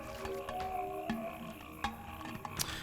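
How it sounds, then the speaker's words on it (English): Frogs croak in a swamp in the video game Pathologic, with irregular close croaks and clicks over a steady murky ambience, several sharp calls standing out. "I love any game that has a swamp, especially like croaking frogs and rain at the same time"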